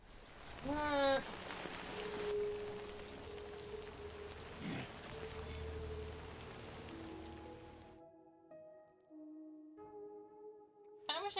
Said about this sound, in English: No end to this rain.